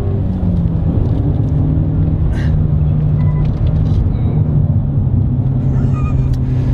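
Engine of a 2018 Hyundai i30N 250 PS hot hatch pulling in second gear, a loud continuous low drone with road rumble heard from inside the cabin, a voice briefly present.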